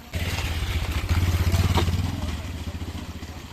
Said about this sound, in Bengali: একটা বাইক আসছে ওই ভুটানের ওই সাইডটা দিয়ে আসছে